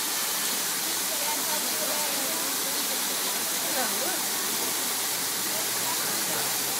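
Water overflowing at an elephant enclosure in a zoo, a steady broad rushing hiss like a small waterfall running throughout, with people talking over it.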